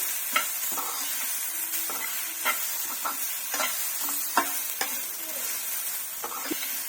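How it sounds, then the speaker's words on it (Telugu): Grated coconut and turmeric are stir-fried in a pan for a cauliflower coconut fry. Repeated spatula scrapes and stirring strokes come in an uneven rhythm over a soft steady sizzle, close and moderately loud. "పచ్చివాసన పోయే వరకు వేయించుకుందామండి ఇలా వేయించేటప్పుడు కొబ్బరి మనకి పొడి పొడిలాడుతూ వస్తుంది"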